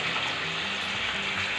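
Bottle gourd bharta cooking in a hot pan as the vegetable is stirred and mixed, giving a steady close sizzle and wet hiss with soft scraping, no voices.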